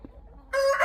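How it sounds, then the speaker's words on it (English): Farmyard chickens gathered and waiting to be fed give one short, close cackling call after a quiet stretch. "the 7-Eleven chickens have been following me all the way across the yard to here."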